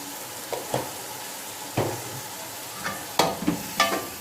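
A spice masala with red chilli powder, coriander powder and tomato fries in a pan for masala bhindi, giving a soft continuous sizzle broken by several sharp scraping clinks of a spoon stirring against the pan, close and with no talk.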